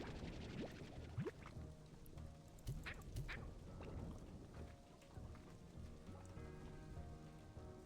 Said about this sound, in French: Ah, la pluie, alors juste...